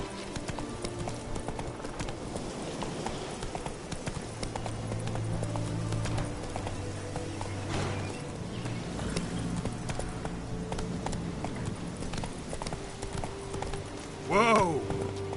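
Roach, a horse in The Witcher 3 video game, gallops in a steady, continuous clip-clop of hooves under game music, and a short whinny breaks through near the end.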